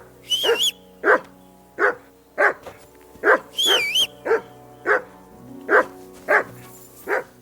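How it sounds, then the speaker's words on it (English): A dog in the video game Kingdom Come: Deliverance II barks about a dozen times in a steady, evenly spaced rhythm, loud and close, over a low background hum and occasional higher tones. "That barking was a pain in the ass."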